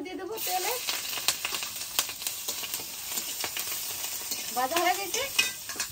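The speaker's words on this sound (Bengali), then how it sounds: "কাঁচামরিচ, রসুন কুচি দিয়ে দেবো তেলে।" Green chilies and chopped garlic fry in hot oil in a kadai during village cooking, giving a continuous close sizzle with scraping stirs, while a voice briefly speaks at the start and near the end.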